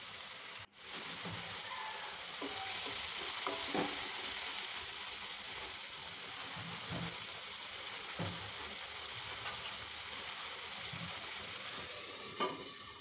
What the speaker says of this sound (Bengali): দিয়ে কিছুক্ষণ এই পেঁয়াজকে আমি ভেজে নিব।